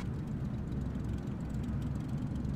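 A Cessna taxiing in Microsoft Flight Simulator 2020 gives a steady low engine and propeller drone, close and even, heard alone without talk.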